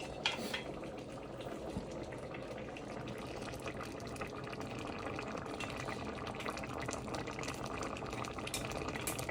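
Chicken curry boiling in a pot, a steady broadband bubbling simmer running close and continuous with no voices.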